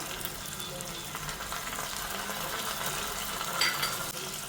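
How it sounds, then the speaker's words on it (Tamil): Small onions and curry leaves fry in hot oil while tempering for a prawn curry, giving a steady close sizzle with a brief clink of a utensil near the end. "5 சின்ன வெங்காயம் சின்னதாக அரிஞ்சு வச்சுருக்கேன், அது போட்டுங்க. எண்ணெயில் போட்டுட்டு கொஞ்சம் கருவேப்பிலை,"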